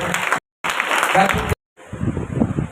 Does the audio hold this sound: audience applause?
yes